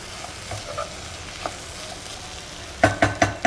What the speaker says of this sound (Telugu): కారం వేసిన తర్వాత కొద్దిగా కలిపి